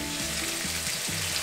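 Three eggs sizzle in a pan alongside bacon, a steady loud hiss of hot fat with faint tonal hum underneath, no talking.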